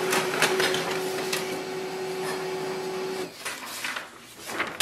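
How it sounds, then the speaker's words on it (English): An HP LaserJet M234sdw laser printer runs a page through, with a steady mechanical whir and a sustained tone, then a brief shift as the paper feeds out, heard close and alone. "Select your HP laser printer and click on the print button."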